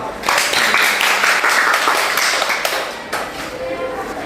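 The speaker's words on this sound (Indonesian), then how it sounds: "Kita beri tepuk tangan untuk kita semua" Students in a classroom clap together in a lively, close round that fades after about three seconds into a brief murmur and a few lingering claps.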